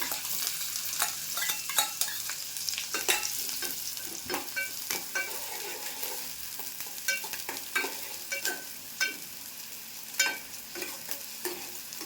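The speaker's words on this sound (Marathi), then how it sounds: "तेल तापलं आता कांदा फोडणीला टाकते" Onion fried in hot oil in a kadhai for Maharashtrian egg curry, a soft continuous sizzle with frequent sharp clicks of a spoon stirring against the pan, close and steady, with no speech.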